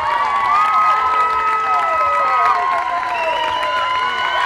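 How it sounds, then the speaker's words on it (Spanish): A crowd at a San Juan 2010 dance show cheers and applauds in a steady, loud roar with shouting voices and whistle-like tones running throughout. "vamos que se escuche ese aplauso"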